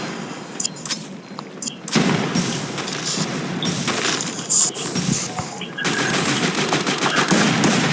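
Rapid gunfire in the video game Free Fire crackles continuously with heavy grenade blasts and booms mixed in, loud and dense throughout.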